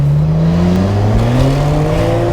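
A Nissan Skyline R34 GT-R with a louder aftermarket exhaust, muffler still fitted, revs up close by. Its deep, loud engine note climbs steadily in pitch without a break.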